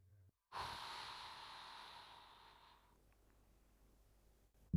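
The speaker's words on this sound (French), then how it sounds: "on inspire, on expire" A steady, breathy exhale from someone doing a shoulder exercise, lasting about two seconds and slowly fading, heard alone in a quiet room.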